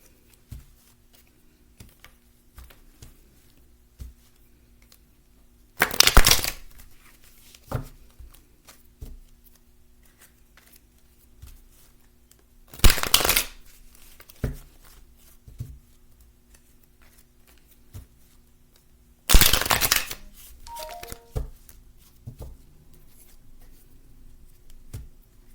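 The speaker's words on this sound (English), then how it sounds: "So let's go ahead and get into the tarot, okay? So let's go ahead and shuffle." Tarot cards shuffled in three loud, brief riffling bursts separated by quieter stretches of soft handling and tapping, close to the microphone with no talk.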